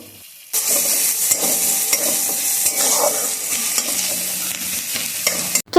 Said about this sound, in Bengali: সর্ষের তেল দিয়ে তার মধ্যে ফোড়ন দিয়ে দিলাম শুকনো লঙ্কা আর রসুন আর কিছুটা পেঁয়াজ দিয়ে এবার পাট শাকগুলো দিয়ে সুন্দর করে ভেজে নেব